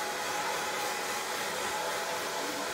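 A hair dryer blows with a steady, loud whooshing roar, constant and close, with no voices.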